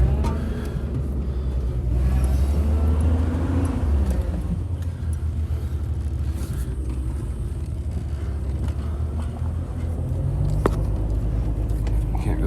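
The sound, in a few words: car driving down a shoveled snowy street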